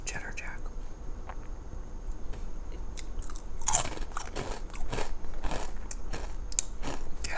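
Crunchy Spicy Cheddar Jack potato chips are bitten and chewed right at the microphone, with sharp crisp crunches in irregular bursts amid quiet whispering.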